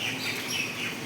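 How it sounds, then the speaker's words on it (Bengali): Faint outdoor birdsong on a pleasant afternoon: soft, thin chirps and calls over a quiet airy background, with no voices. "কি সুন্দর পাখির ডাক"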